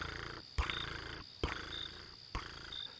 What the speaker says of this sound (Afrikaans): Spin Katrein, toe mevrou Boer die aand oor haar sagte pels vryf